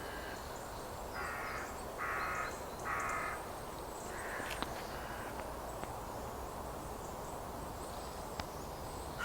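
Several crows caw in a short run of harsh calls, then go quiet, heard outdoors among trees over a steady background hiss and a few faint clicks.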